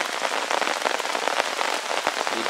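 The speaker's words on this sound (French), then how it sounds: "Il pleut de plus en plus fort." Heavy rain patters densely on a taut tarp overhead at a bushcraft camp, a constant crackling drumming with occasional louder drops.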